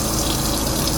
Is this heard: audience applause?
no